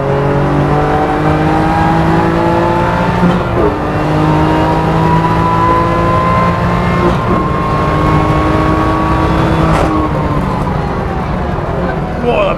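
A 510bhp BMW M2 Competition accelerates hard around Silverstone, its loud engine note climbing steadily and dropping back at each of several quick upshifts.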